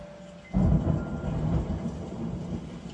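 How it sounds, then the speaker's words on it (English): Thunder from a storm cracks suddenly, then rumbles on, deep and rolling, and slowly fades over a few seconds with no voices. "did you guys hear that thunder?"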